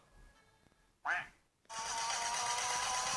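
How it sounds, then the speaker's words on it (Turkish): A single short, nasal quack rings out, followed by a loud, sustained noisy tone. "Quack."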